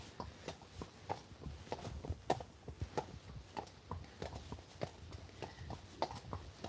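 A Friesian mare walks on a hack around a village, hooves clip-clopping in a steady four-beat rhythm at moderate distance with faint background noise and no speech.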